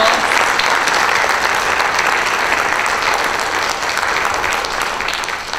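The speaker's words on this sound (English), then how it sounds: "please join me in a round of applause for all the candidates and your panels" Audience at a Dawsonville city council candidate forum giving a sustained round of applause for the candidates and panels, a steady dense wash of clapping that holds evenly and tapers slightly at the end.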